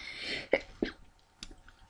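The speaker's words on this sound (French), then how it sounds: "Oh, je vais éternuer, je crois." One person sneezes, a short sharp burst after a drawn-in breath, followed by a couple of faint clicks and breaths, close and fairly quiet.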